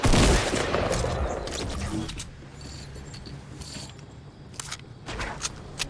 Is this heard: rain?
no